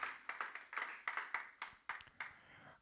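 A church congregation claps for the Lord during a Spanish-language sermon, about nine sharp, fairly quick claps in a steady rhythm, loud and close, with no talking over them.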